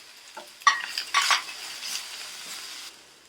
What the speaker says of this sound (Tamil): இப்போ நம்ம கருவேப்பிலை போட்டுக்கலாங்க.